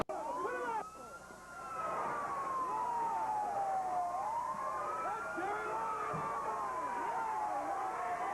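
An ambulance siren wails through a wrestling event, its tone sweeping slowly up and down, loud and continuous over crowd noise with some speech in the background.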